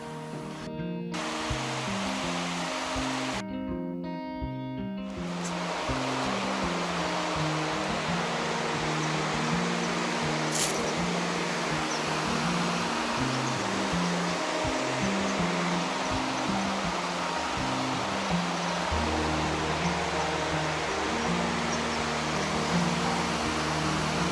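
Probiy waterfall at Yaremche pours in a constant, loud roar of falling water, with a melodic, music-like tonal pattern running underneath most of the time.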